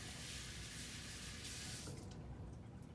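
Water runs from a tap as wet hands are rinsed under it, a close, steady splashing rush that drops away sharply about two-thirds of the way through.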